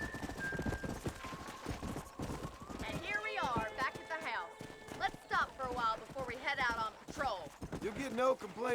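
Horse hooves clip-clop in a steady rhythm in the Red Dead Redemption video game, close and distinct, while voices talk over the trotting for most of the stretch.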